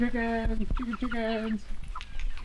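Meat chickens out on pasture in movable chicken tractors make harmonic, drawn-out calls over a steady low background, with a couple of sharp clucks and some nearby talk mixed in.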